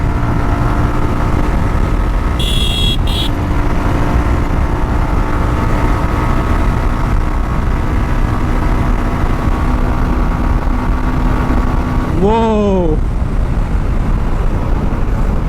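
A Suzuki Gixxer SF motorcycle rides along a sunny road, its engine holding a steady drone throughout, with a short horn-like burst early and a falling engine sweep near the end as it slows.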